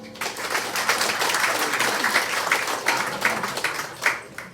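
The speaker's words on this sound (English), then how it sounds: "So how many of you, by round of applause, is this your first time seeing a Stevie Ray's improv show?" An improv comedy audience at Stevie Ray's 35th anniversary show breaks into a full, loud round of applause, dense clapping from many hands with a few whoops, sustained for several seconds.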